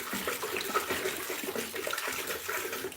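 Water runs into a container in a shop, a steady splashing gurgle that rises and falls slightly as it fills, close by and without any speech.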